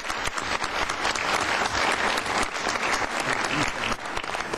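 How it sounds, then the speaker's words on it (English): Enthusiastic applause from a crowd at a council meeting, dense clapping sustained throughout at a steady, loud level. "Let's give her a big round of applause."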